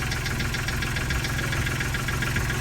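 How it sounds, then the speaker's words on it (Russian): A sailboat's inboard engine idles roughly while warming up, a loud steady knocking rumble with a shaking, uneven beat, running alone throughout. "Вот так вот трясет, может быть, имеет смысл, конечно, отрегулировать холостой ход"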